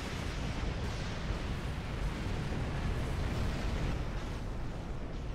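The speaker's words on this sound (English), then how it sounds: "You ready for another rocket barrage, boys?" Rocket barrage explosions in Star Trek Online roar as a continuous, dense rumble of overlapping blasts, loud and sustained without pause.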